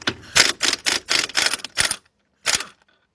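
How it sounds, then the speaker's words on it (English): An air impact gun hammers off a nut on a 1993 Nissan Altima during rear brake work: a loud, close burst of about six rapid rattling pulses, a short pause, then one final brief burst. "got my air gun. Okay, let's take that nut off."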